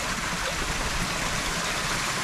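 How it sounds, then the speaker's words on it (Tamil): Water flows and falls into a deep channel in Sri Lanka, making a loud, steady rushing roar close by, continuous and unbroken throughout. "அங்கே இருந்து வார தண்ணி அப்படியே இதுக்குள்ளே விழுந்து இப்படியே போகுது"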